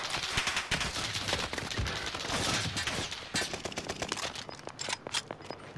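Rapid bursts of automatic gunfire and single shots from Call of Duty: Modern Warfare, loud and dense throughout, with sharp repeated cracks toward the end.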